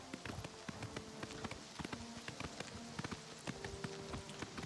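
Horse hooves clip-clopping in a video game, a steady rapid run of close, light taps lasting several seconds with no talk.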